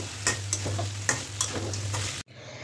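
Meat curry stirred and fried in a pan, steady sizzling with a few scraping stirs of the spoon, close up with no talking, cutting off abruptly near the end.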